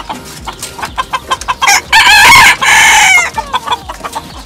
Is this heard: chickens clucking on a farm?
yes